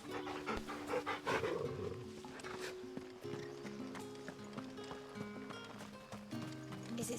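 A dog panting in Final Fantasy XVI, with steady breathy huffs running through layered game music and hoof-like clip-clop in the background, no talk.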